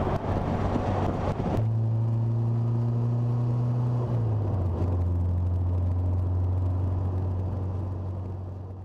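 A 1966 MGB Mk1 Roadster drives at highway speed, its engine a steady droning hum that shifts pitch twice as it accelerates, with road rumble underneath and no talk.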